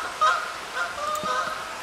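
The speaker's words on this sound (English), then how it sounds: "And there's some Canadian geese are flying over." Canada geese honk while flying over near a pond, several faint distant calls repeating in short bursts.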